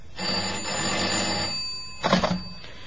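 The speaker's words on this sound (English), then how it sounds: "Telephone rang." An old telephone bell rings in two bursts, a long ring followed by a short pause and a second shorter ring, clear and fairly close in a quiet room.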